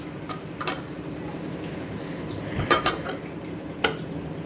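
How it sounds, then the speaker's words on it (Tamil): Light metallic clinks of cookware, then a lid clatters onto a pan of ridge gourd stir-fry with a couple of quick rattles, followed by a single sharp clink. "இப்போ மூடி வச்சிடலாம்"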